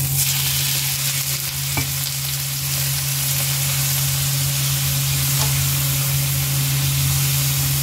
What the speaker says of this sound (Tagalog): So atin muna siyang i-fry sa bawang, luya at onion.